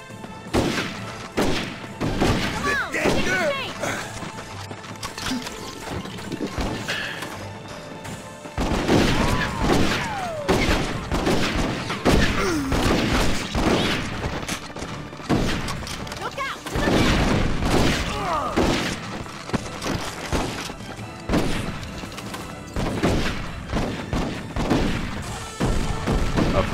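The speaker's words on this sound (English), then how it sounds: "I hear a lot of gunfire, and I'm not seeing where it's coming from." Gunfire in the Red Dead Revolver video game, repeated loud bursts and booming shots in clustered volleys with crashes and thuds between, under someone talking and other voices across a long battle.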